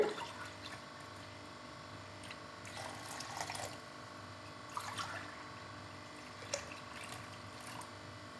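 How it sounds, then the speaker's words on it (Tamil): Water runs and splashes steadily into a pot for making pongal, with a few louder sloshes and clinks along the way, quiet and close. "நம்ம அளந்து ஊற்ற போகிறோம்"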